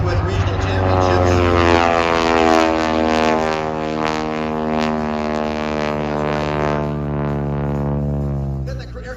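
A 450 HP Boeing Stearman biplane roars through aerobatics, its radial engine and propeller producing a loud, steady drone with shifting pitch as it maneuvers overhead.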